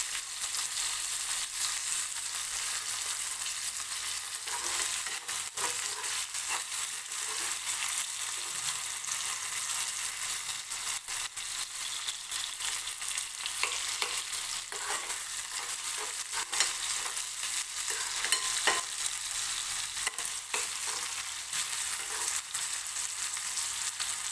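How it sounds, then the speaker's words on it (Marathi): Oil sizzles continuously as chopped tomatoes fry until soft in a kadhai, a steady crackling hiss with occasional stirring scrapes, no voices. "कढईमध्ये टोमॅटो टाकून घेते टोमॅटो सुद्धा आपल्याला सॉफ्ट होईपर्यंत तेलामध्ये परतून घ्यायचं आहे"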